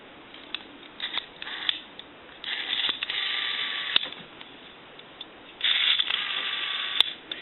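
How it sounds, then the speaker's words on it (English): Whirring clicks come from the rotary dial of a Northern Electric N233H three-slot payphone as it is turned and spins back. The dial runs in three separate bursts, close and dry, with no talk. "It sounds and feels like a normal dial now."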